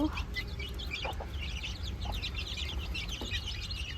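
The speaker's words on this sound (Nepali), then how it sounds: "यहाँ चाहिँ बाउ आमा अनि छोराछोरी छ मेरो कुखुराको चाहिँ भाले" A flock of chickens with a rooster and chicks, close by: a busy mix of soft clucks and high peeping chirps that runs the whole time over low background rumble.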